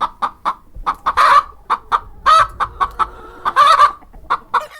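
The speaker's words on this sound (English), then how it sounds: "Hen." A hen clucks in a quick, uneven run of short notes broken by a few longer, louder squawks, close up with nothing else heard.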